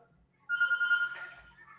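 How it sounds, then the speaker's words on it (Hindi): A telephone rings indoors, a steady repeating electronic ringtone that starts abruptly and carries on fairly loud, with a few faint background sounds. "देखना फोन आया."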